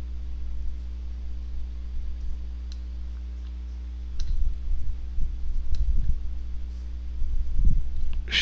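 Mouse clicks and drags while the Move tool is used in Pixlr: a few faint, sharp clicks over a steady electrical hum, with soft handling bumps later in the clip.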